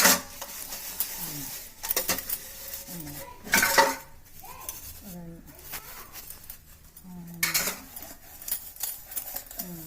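Pots and vessels clatter and clink in a home kitchen, with several sharp bursts of metal-on-metal knocking spread through the clip between quieter handling sounds, close by and moderately loud.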